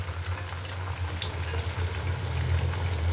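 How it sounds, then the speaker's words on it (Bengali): Eggs frying in hot oil in a pan, a steady soft sizzle with faint crackles and pops, close and continuous. "তেলের মধ্যে ডিম দিয়ে দিলাম। ডিম এখনো ভাজি নেই, ভাজতেছি।"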